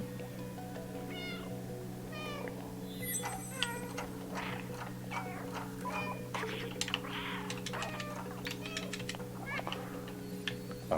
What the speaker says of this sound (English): we're going to spam a little meowing